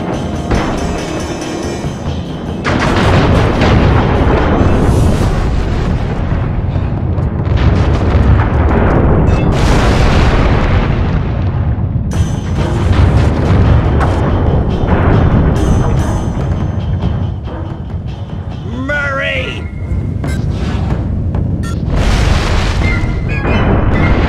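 Loud, sustained cannonball explosions in the video game Sly 3 boom in heavy overlapping blasts with little pause for over twenty seconds, punctuated by whooshes and crashes.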